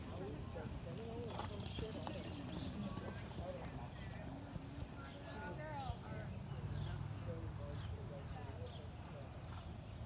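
Rhythmic hoofbeats of a horse trotting steadily throughout at a horse show, with people talking over the top and a faint mix of background noise.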